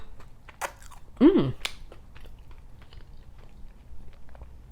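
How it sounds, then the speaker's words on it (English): Someone chewing a vegan chicken hot honey sandwich with coleslaw and jalapenos, soft close-up mouth and crunch sounds with one louder bite, with brief vocal murmurs among the munching. "I'm having a good time over here chewing."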